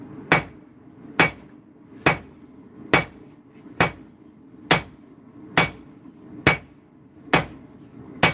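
Steel billets with welded cladding being hammer forged, struck hard and evenly about once a second in a steady series of loud, sharp ringing blows, with no talk.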